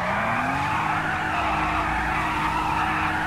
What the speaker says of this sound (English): I'm about to do donuts.